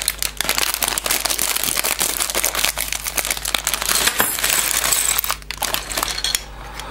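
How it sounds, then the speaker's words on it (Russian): Continuous crinkling of a plastic bag being torn open and handled close up, with small Spider-Man construction set pieces rattling and clicking inside throughout. "Вскроем наш второй пакетик."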